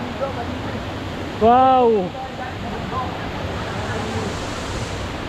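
Broad rushing of spring resort water flowing, a constant near splash and roar, briefly topped by a short exclaimed voice.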